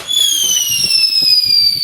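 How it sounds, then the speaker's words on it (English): A bootleg firework going off inside a toilet gives a loud, sustained high whistle that slowly falls in pitch over dense crackling and popping, all close and harsh. "bootleg fireworks"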